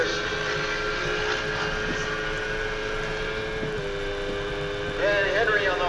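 Racing motorcycle at speed on the Mosport circuit, its engine whine holding a steady tone and then stepping up in pitch as it runs along the curbing, with commentary over it.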